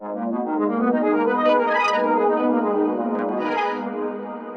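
A dense, shimmering tone from a fragment effect plugin processing a sample, with granular, bell-like texture and smeared echoes, sustained steadily before fading slightly at the end.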